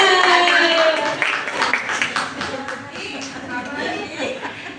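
Children clap together in a classroom during a grade 2 lesson, a busy rattle of hand claps mixed with chatter and young voices, loudest at the start and easing off.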